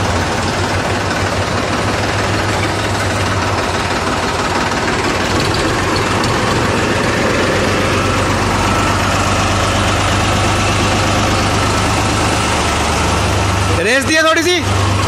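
A Mahindra 265DI tractor engine from 2005, original engine, idles steadily with a low, even chug that holds throughout, then briefly revs near the end.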